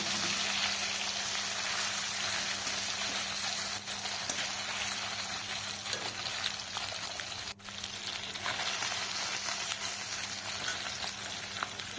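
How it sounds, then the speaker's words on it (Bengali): Tilapia and other fish frying in oil, a steady, close, dense sizzle that carries on evenly throughout with one brief dip, and no talking. "তারপরে যে তেলাপিয়া মাছটা দিয়ে দিলাম, আর বাকি যে মাছগুলো ছিল সব দিয়ে দিলাম।"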